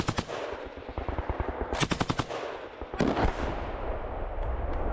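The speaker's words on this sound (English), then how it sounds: "The man shot down Russia's attack UAV with precise fire from the legendary MG-42 machine gun" An MG-42 machine gun fires at a Russian attack drone in rapid, loud bursts of crackling shots with a few brief pauses, close and echoing outdoors.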